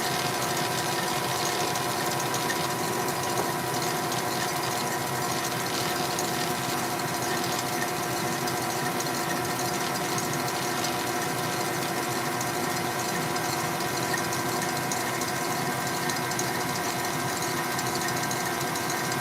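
A stand mixer with a whisk attachment running at speed 2, mixing sugar into macaron batter, producing a constant mechanical whir and hum that holds steady throughout, fairly quiet and unbroken, with no talk.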